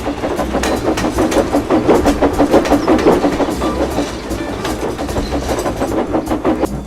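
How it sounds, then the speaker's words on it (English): A steam train running with its firebox choked by clinker and ash: a loud, close, rhythmic clickety-clack of wheels and a chuffing engine beat over a low rumble, holding a steady pace throughout. "This train isn't going any faster until that mess is cleared."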